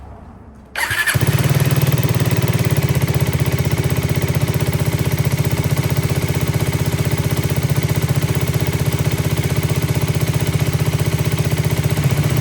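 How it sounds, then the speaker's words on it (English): An FB Mondial HPS 125 motorcycle engine cranks and fires up after a moment of quiet, then settles into a loud, steady, rapid idle that continues to the end, warming to operating temperature. "we're going to run the engine up, get it so it's up to operating temperature"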